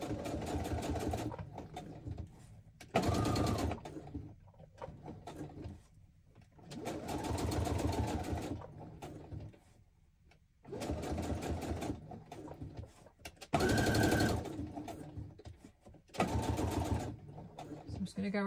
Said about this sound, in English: just going to whiz this around the sewing machine